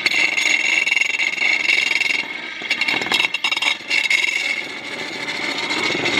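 Engine revving while driving an alternator through a homemade water wheel transmission, a steady mechanical whine and rattle with a rough, uneven surge partway through before settling back to a constant drone.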